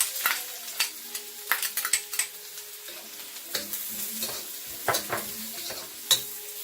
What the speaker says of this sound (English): I have some onions here, some chopped onions. So I'm just going to add that to the pot.